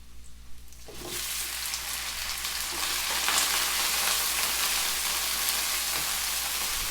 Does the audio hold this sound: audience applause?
no